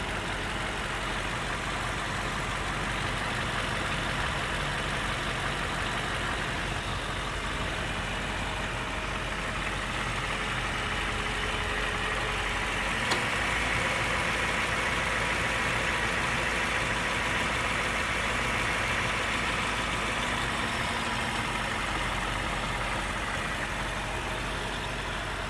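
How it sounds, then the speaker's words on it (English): A Toyota Land Cruiser engine idles steadily at close range, a constant low rumble and mechanical hum that holds unchanged for about twenty-five seconds, with one faint click midway. "Just wanted to let you hear the engine run clearly"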